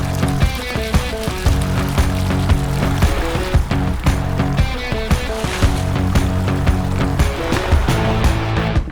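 A vehicle fords a river, water churning and splashing steadily around it for several seconds, loud and close, with a rough rumble running underneath.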